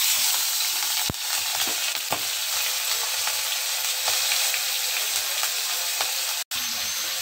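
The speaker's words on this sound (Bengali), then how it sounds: "মাছটা ভেজে নিচ্ছে, দেখো" Marinated giant prawns, roe-laden golda chingri, fry in hot oil over a low flame for a Bengali malai curry, giving a steady close sizzle with scattered sharp crackles and pops throughout, no voices.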